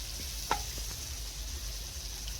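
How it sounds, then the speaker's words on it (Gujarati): Bakra being dropped into a hot spice tempering of onion, tomato and garlic, giving one sharp hiss that settles into a steady, moderate sizzle with no one talking. "હવે બાકરા નાખશું એટલે વઘારી દઈએ"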